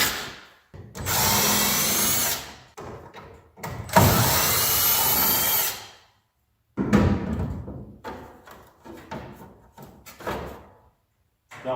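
A power drill backs screws out of the grille of a 1980 Plymouth Volare. It whirs loud and close in two long bursts, followed by shorter runs, rattles and clatter of handled parts.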